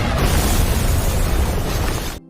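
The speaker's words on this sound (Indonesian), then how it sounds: "lagi-lagi bom pun meledak" A powerful explosion roars continuously, a thick wall of rumbling, crackling noise that cuts off abruptly at the end.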